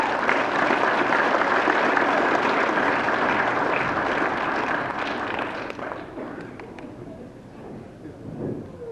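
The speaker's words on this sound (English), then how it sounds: "Can we get one more round of applause for everybody?" A round of applause at an industrial workforce graduation ceremony, loud, steady clapping from a sizable audience that gradually thins and fades toward the end.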